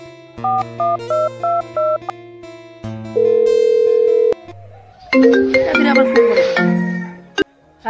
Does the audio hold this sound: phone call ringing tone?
yes